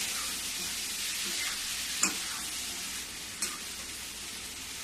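Cut potatoes stirred into frying tomatoes in a pan, giving a loud, constant hissing sizzle with two sharp scraping clicks of the spoon against the pan.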